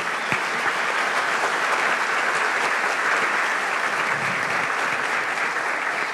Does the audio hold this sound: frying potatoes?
no